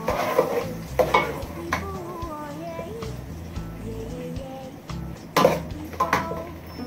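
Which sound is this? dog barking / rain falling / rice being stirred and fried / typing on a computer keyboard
rice being stirred and fried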